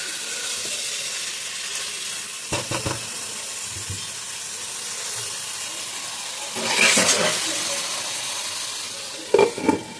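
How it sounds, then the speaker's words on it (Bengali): Chicken pieces for black-pepper chicken frying and being stirred in a pan, a steady close sizzle with a louder hiss as the meat is turned and a few scraping knocks; no talking. "এবার মাংসটা অনেকক্ষণ ধরে কষাতে হবে, ভাজতে হবে।"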